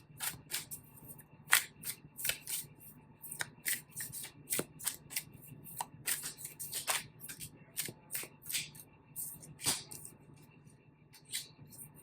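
Tarot cards shuffled by hand, a long run of crisp riffling bursts and slaps in irregular rhythm, close and clear with no talking.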